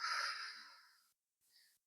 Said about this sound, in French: en expirant doucement par la bouche